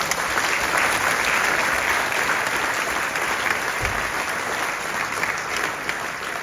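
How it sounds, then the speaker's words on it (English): Church congregation clapping hands during a service, sustained dense applause at an even level throughout, with no talking over it. "let's clap our hands again."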